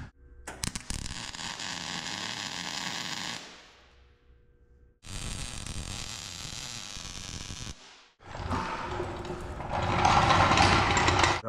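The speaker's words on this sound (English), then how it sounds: "This side I'll just weld quick." Arc or MIG welding on a metal table frame, with three bursts of steady crackling hiss separated by short pauses, close and loud with no talking.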